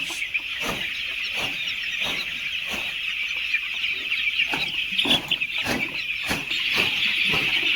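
A crowd of broiler chickens on a farm clucks and chatters continuously, with a dense bed of bird calls and repeated short, sharp bursts standing out throughout.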